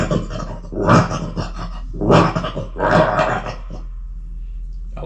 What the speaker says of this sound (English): I like the dog sounds. I like those a lot.